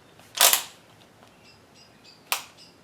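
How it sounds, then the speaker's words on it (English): A torque wrench set to about 30 foot-pounds tightens bolts on a 1973 C10 350 engine, giving one sharp close click, then a second fainter click a couple of seconds later in a quiet garage. "it'll make a slight click when it reaches its torque"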